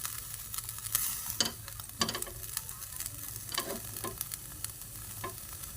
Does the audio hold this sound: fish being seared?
yes